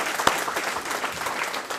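Television studio audience applause on a talk show, a dense wash of clapping with one sharp clap standing out early, steady throughout.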